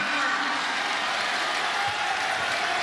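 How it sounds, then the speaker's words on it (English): A basketball crowd inside Reed Green arena roars with steady applause and cheering, a dense, loud wash of clapping and shouting that holds evenly throughout without a break. "the crowd does come alive inside Reed Green"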